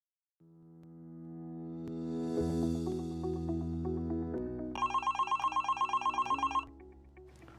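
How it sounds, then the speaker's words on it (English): A telephone rings alone, its bell-like tone starting softly and swelling louder, then a rapid run of bright, evenly pulsed rings that stops abruptly near the end. "The phone rings"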